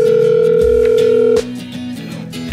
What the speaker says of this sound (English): So we're going to dial the number